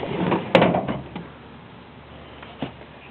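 A toolbox drawer lined with cardboard slides open or shut, giving a muffled thump and rumble near the start, a softer shift after it and a faint knock later, all close by with no talk.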